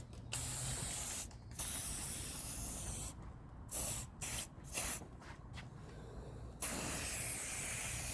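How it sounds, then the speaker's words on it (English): An aerosol sprays onto car window rubber seals in a series of bursts, some long and some short and choppy with gaps between, a close, hissing spray with no talking. "You can also spray your rubber seals as well on here to give them a bit of a clean and to protect them"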